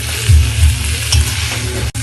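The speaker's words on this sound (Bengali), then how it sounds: "আমরা এখানে একসাথেই ভেজে নিচ্ছি।" Potatoes and cauliflower fry together in hot oil in a pan for aloo fulkopir dalna, sizzling steadily at close range while a spatula stirs them with occasional scraping knocks.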